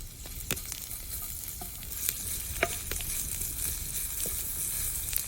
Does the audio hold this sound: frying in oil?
yes